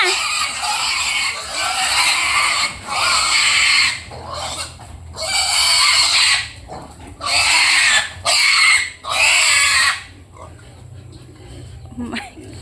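Piglets being moved from nursery to grower pen squeal loudly in several long, shrill bursts close by, with short gaps and people talking in between.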